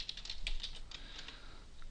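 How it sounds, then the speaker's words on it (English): Password being typed on a computer keyboard, a quick irregular run of light key clicks close by, fairly quiet with no talk. "let's type in a suitable password"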